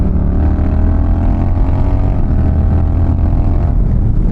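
Honda Rebel 1100 DCT motorcycle engine running steady and loud up close, a continuous low rumble with slight rise as it downshifts and pulls away, with wind buffeting throughout.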